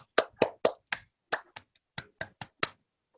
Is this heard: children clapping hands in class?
yes